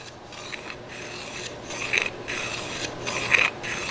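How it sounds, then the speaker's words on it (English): A small chamfer being cut into the wooden edge of a shooting board, making repeated rhythmic rasping, scraping strokes that come close and fairly loud, with short pauses between passes and no voices. "we're just going to cut a little chamfer"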